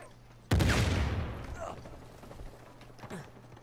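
Gunfire in Uncharted 4 multiplayer, one sudden loud close burst that rings out and decays over about a second, followed by fainter shots and a voice.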